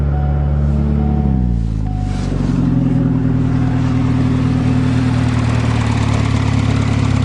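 Turbocharged engine cold-starting and revving loud and close, its pitch sliding down after about a second and then settling into a steady, rough, droning idle.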